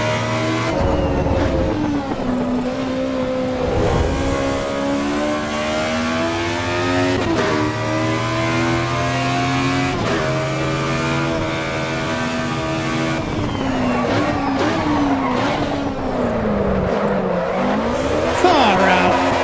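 A race car in the video game Assetto Corsa Evo revs and shifts through gears with sweeping engine pitch, tires squealing under braking, loud and continuous while a voice talks over it.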